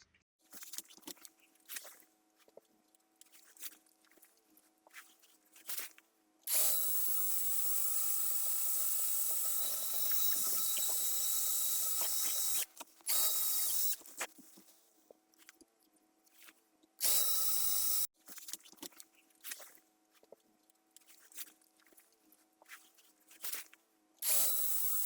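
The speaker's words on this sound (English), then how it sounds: "just got to drill 2 holes" A drill bores two holes in an ebony archtop guitar body for the tailpiece, with two long, loud, steady whirring bursts and a short third burst in a quiet workshop between quieter handling clicks and knocks.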